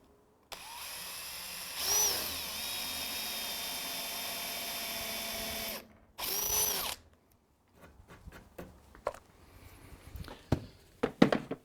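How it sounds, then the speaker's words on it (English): Power drill boring vertical holes into the top of a timber fence: a long steady whine, a short second burst, then scattered knocks and handling clatter close by. "using the drill bit that we include, just drill vertical holes down into the top of the timber fence"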